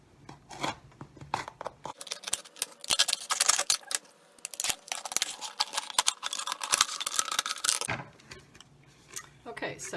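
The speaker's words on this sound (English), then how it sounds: "I like to use something sharp to get the cut started, and then either scissors or another sharp knife" A plastic soda bottle being cut with scissors or a sharp knife: a close, steady series of crisp crackling snips and crunches, pausing briefly before resuming near the end.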